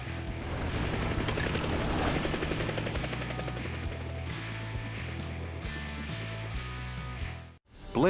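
Rotor chop of a cartoon helicopter flying through a forest fire to lift a plane to safety, loud and steady with rhythmic low thumping, mixed with a dense music score, then cutting out abruptly near the end.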